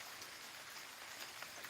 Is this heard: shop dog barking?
no